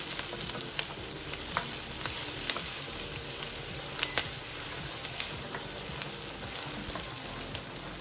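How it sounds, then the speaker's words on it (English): Onions sautéing in melted butter in a pot, a steady close crackle and sizzle with faint scattered pops and stirring scrapes throughout, no voices. "we're going to saute the onions until they become translucent and the butter melts"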